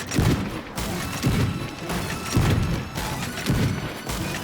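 Ship cannons booming in the Sea of Thieves game, a run of heavy blasts about once a second, loud and close with crashing impacts and no talk over them.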